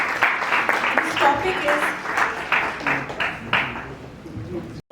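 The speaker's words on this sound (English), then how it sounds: "please welcome him with a round of applause" Applause from a homeopathy conference audience, steady rippling clapping that gradually thins out and fades, with a voice speaking over it near the end.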